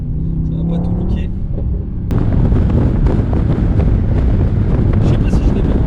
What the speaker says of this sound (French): il y a un petit peu de vent aujourd'hui, j'espère que ça va pas tout niquer